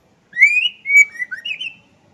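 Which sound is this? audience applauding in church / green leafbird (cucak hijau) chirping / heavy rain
green leafbird (cucak hijau) chirping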